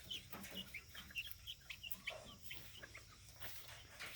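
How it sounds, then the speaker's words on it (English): White crested Polish chickens cluck and chirp in a coop in a steady run of short, fairly faint calls, with no talking. "And then there's my white crested Polish, funny looking chickens."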